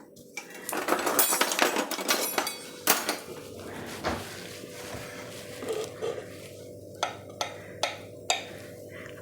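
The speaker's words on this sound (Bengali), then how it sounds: "একটু কেটে দেখাই ভিতরটা।" A knife cuts into shrimp wrapped in pumpkin leaf (kumro patay chingri) on a plate, giving a run of sharp metallic clinks and taps, busy at first and then sparser, separate knocks.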